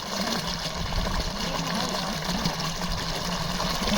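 Steady rush of water flowing from an irrigation canal, continuous and fairly loud, with a low mechanical hum underneath and no voices.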